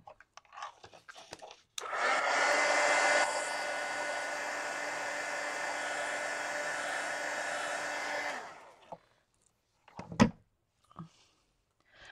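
A hair dryer is run over a coloring book page, a loud steady whoosh that lasts about six seconds and then dies away, with faint handling clicks before and after.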